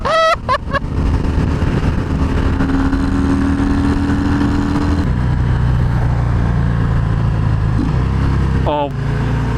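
Engine of a 2020 Harley-Davidson FXDR 114 motorcycle pulling hard in sixth gear, a steady loud drone from the rider's position with wind rush, a brief shift near the middle, and a person speaking over it.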